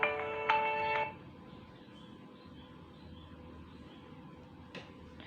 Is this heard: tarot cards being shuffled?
no